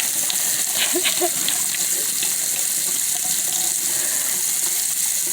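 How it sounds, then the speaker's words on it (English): Items rinsed out under a running kitchen faucet, with steady water streaming into a sink and occasional clinks and splashes throughout. "You see how I rinse these all out and all?"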